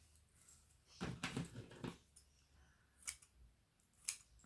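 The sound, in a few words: scissors cutting cheesecloth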